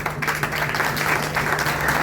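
Audience applause at a religious talk gathering honouring students' parents, a steady dense clapping wash at moderate loudness over a low constant hum, without pause.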